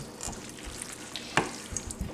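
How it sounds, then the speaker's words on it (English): Pasta being stirred in a pan with bacon and turkey, soft sizzling and wet clicking scrapes of the utensil, close and fairly quiet with a few sharper knocks. "Let's go ahead and stir that up."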